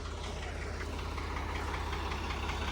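A tractor engine idles steadily nearby, a low continuous rumble with a regular knocking pulse throughout.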